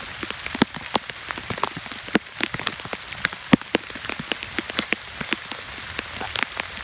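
Rain during a storm patters steadily on a surface, a dense spray of close, irregular sharp drops with louder ticks scattered throughout, by a snake trap on the Hau River.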